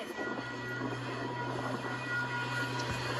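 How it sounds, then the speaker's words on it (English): A passing train gives off a continuous rumble with rolling wheel noise and a steady low hum, heard at a modest, even level without pause. "there's a freaking train in my way"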